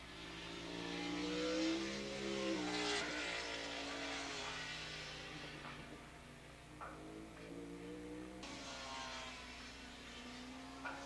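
Race motorcycles in a 1987 AFM 750/Open Modified Production race at Willow Springs Raceway, a mid-pack group of four or five riders heading into turn one, drone past with layered engine tones rising and falling, distant and fairly faint.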